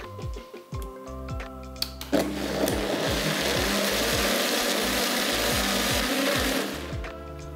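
A Promix 911B blender grinds a thick coconut coffee mixture, starting with irregular clunks and ticks before settling into a loud, steady whirring roar that holds for several seconds, then eases off near the end.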